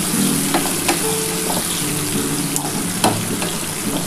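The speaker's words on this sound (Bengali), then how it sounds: "অল্প একটু ভাজবো, খুব বেশি কিন্তু এটা ভাজবো না।" Tomato and onion fry in a pan as the base for a Bengali fish curry, with a continuous close sizzle and a few sharp clicks and scrapes of stirring.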